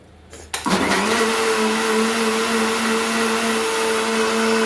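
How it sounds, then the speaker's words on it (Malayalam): A mixer grinder starts up and grinds tamarind to a paste, a loud steady motor whine with a sharp start after a brief quiet moment, holding an even hum to the end. "ഇത് നമുക്ക് മിക്സിയിൽ അരച്ചെടുക്കാം."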